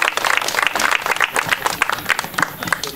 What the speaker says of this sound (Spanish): Fuerte aplauso para William Muñoz Valverde.